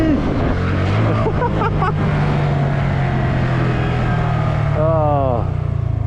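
A car engine accelerates hard in second gear, loud and close, with a steady droning pitch that rises sharply near the end, while a voice speaks over it.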